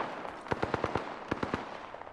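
Gunfire in Apex Legends, a rapid burst of about five sharp shots followed by a second short burst of three, fairly quiet and distant-sounding.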